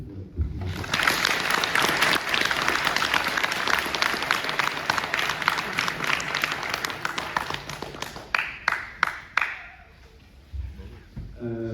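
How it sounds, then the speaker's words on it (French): An audience at a physics lecture applauds to welcome the guest speaker, a dense burst of clapping that thins into scattered individual claps before dying out. "qu'on peut, je pense, applaudir"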